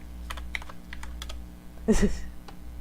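Fast keystrokes rattle on a desktop PC keyboard in quick, uneven clicks over a low hum, with a brief louder burst near the middle.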